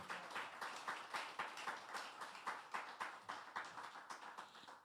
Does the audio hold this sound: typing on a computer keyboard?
no